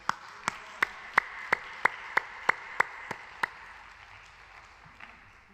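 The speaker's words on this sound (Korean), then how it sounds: "목사님 나오실 때 큰 박수로 환영해 주시기 바라겠습니다." A church congregation at a prayer retreat applauds to welcome the pastor, a run of sharp, evenly spaced claps in a reverberant hall that slows and fades into a quiet room.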